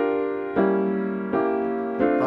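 Piano chords voiced in the right hand with every melody note harmonized, three sustained block chords struck one after another, clear and close with no voice.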